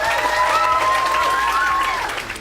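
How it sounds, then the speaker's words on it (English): An audience at the National Ploughing Championships gives a sustained round of applause for a Lady Farmer of the Year finalist, with clapping filling the whole stretch over a crowd murmur and a tonal background sound. "let's give her a big round of applause"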